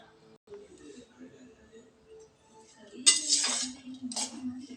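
A spoon stirs and clinks against a dish while fried rice is mixed with no oil and no cooking, quiet scraping at first, then a few brighter clinks near the end, under a soft speaking voice.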